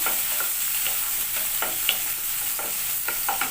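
Chopped onion stir-frying in oil in a pan for pasta, a continuous close hiss broken by light, irregular scrapes and taps of a spatula, with no one speaking.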